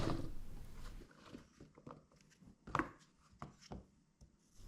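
A knife cuts zucchini lengthwise in half on a cutting board, several quiet, irregular thuds and taps close by in a hushed kitchen.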